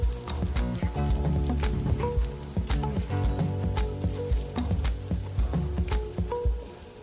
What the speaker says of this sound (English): Let it fry for like four or five minutes